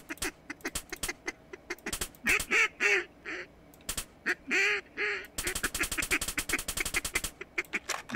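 Ducks quack loudly and repeatedly during a video game duck hunt, with honking calls scattered over the first part. Rapid bursts of full-auto fire from an AS Val rifle take over near the end.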